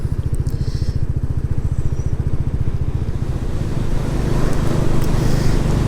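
A Royal Enfield Classic 350 ridden around the Olivers Mount race circuit, its single-cylinder engine thumping in a fast, even pulse close by, growing louder and busier as it revs up toward the end.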